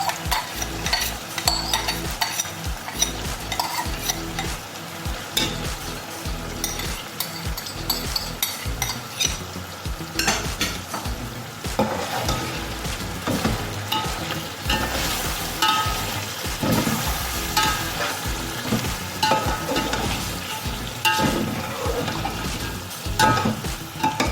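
Continuous close sizzling of yogurt frying in a pot for beef yakhni pulao, with a spoon scraping and stirring throughout and no voices.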